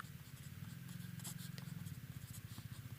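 Pen scratching across paper while writing out a maths solution, quick repeated strokes and taps close up over a low steady hum, with no talking.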